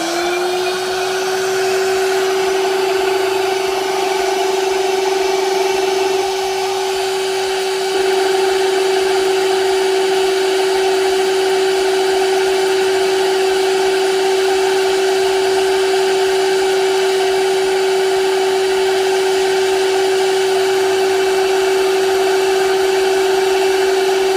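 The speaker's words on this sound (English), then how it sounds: "we'll go ahead and turn on our airflow" Airflow running through a fuel injector cleaning setup, a loud continuous motorized whine with a steady tonal hum and airy hiss, holding almost unchanged from start to finish.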